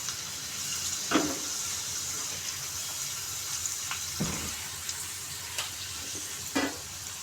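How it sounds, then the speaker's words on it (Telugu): Papad (appalam) deep-fries in hot oil, a steady hiss of bubbling oil broken by a few soft splashes and clinks as pieces are added or turned; no voices are heard. "ఇలా నూనెలో బాగా ఫ్రై చేసుకుంటే మనం అప్పడాలు కూడా రెడీ అయిపోతాయి"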